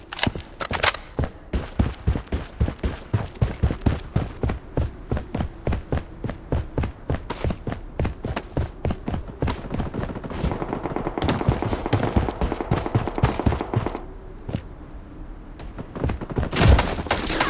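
Rapid automatic gunfire from a battle royale shooter game rattles in long, steady bursts of evenly spaced loud shots, with a denser, rougher stretch of firing toward the end.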